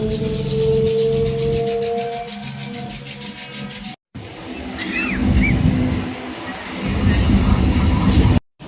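An MMTS suburban train runs between stations, giving a steady rumbling rail noise with a faint rhythmic clatter that grows louder toward the end, interrupted by brief gaps.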